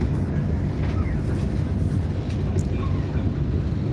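A Vande Bharat train runs into Delhi railway station, heard from on board as a constant deep rumble with faint wind noise and no distinct clacks or voices.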